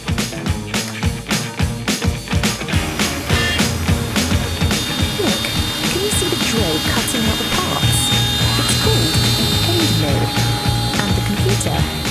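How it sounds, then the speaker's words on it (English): A CNC machine's end mill carves a maze path into a wooden board, giving a continuous whirring, grinding and rattling mechanical noise, loud and close, with rapid clicking at the start. "It's called a CNC machine, and its job is to carve the maze path into the piece of wood."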